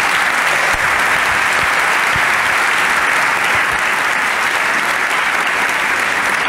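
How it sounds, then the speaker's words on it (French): Sustained applause from a conference audience after a talk on the challenges of space insurance, a dense, steady wash of many hands clapping for the whole stretch, loud and even with no break. "On peut vous applaudir."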